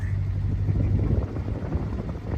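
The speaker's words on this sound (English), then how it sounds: "First gear, wide open throttle. I got second gear." A 1952 Triumph Mayflower engine pulling at wide-open throttle, heard as a steady, loud low rumbling drone from inside the car, with no clear rise in pitch and no talking.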